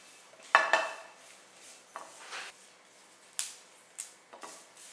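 Curry leaves are dry roasted and stirred in a pan, heard as sparse, sharp metallic clinks and scrapes of a utensil against the pan, several separate taps over a few seconds in a quiet room.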